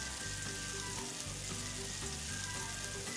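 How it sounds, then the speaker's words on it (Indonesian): Sweet soy sauce being stir-fried in a pan for tomato egg fried rice: a steady, hissing sizzle with faint stirring underneath, even and close, quiet overall with no speech. "saya suka banget kecap manis ini kita tumis juga ikut ya, supaya gula yang terkandung dalam kecap manis itu terkaramelisasi"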